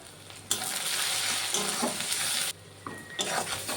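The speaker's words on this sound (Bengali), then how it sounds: "মশলাটা কিন্তু আমার কষানো হয়ে গেছে পেঁয়াজটা খুব ভালোভাবে ভাজা হয়ে গেছে" Steady sizzling of onions and spices frying in a pan for hilsa fish curry, with a brief pause midway and occasional stirring scrapes; close and fairly loud, with no talking.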